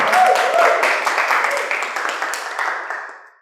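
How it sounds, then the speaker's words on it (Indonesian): A class in a lecture room breaks into a short burst of group clapping that fades out within a few seconds. It is close and fairly loud, with no talking over it. "Kita tepuk tangan dulu buat kita semuanya"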